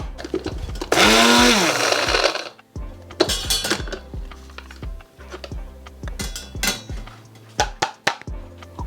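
Mixer grinder whirring loudly for about a second and a half as it grinds cumin and ajwain seeds, followed by clinks and clatters of the jar and kitchen utensils.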